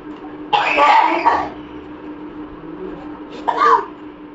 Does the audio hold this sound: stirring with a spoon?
no